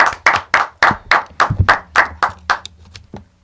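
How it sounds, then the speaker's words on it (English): Close, lively hand clapping for the Arcitype, a BMA 2016 Producer of the Year, in a podcast studio, about a dozen sharp claps in an irregular rhythm, with no talking over them. "clap it up for Arcitype"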